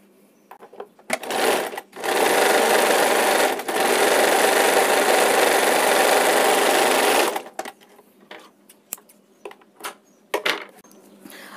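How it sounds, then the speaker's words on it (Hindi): A sewing machine stitches the hook strip on a blouse in two loud, close runs, one short and one several seconds long, followed by quieter handling and clicking of the fabric. "इसके बाद इसको भी हम यहाँ से सिलाई करना है।"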